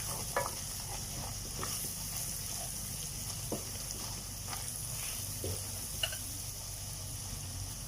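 A kofta curry base fries in ghee with a soft, continuous sizzle, broken by occasional light scrapes and taps of a spoon stirring the pan, fairly quiet overall.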